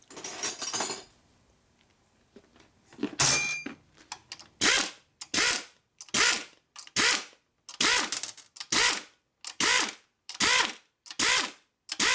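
A hand ratchet tightens a chrome lock nut on a Harley Shovelhead motor, giving about a dozen evenly spaced, loud bursts of close clicking strokes after a brief stretch of handling noise.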